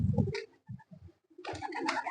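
A pet pigeon feeding from a hand coos softly and close by, a few low murmuring notes set between two louder bursts of rustling and fluttering.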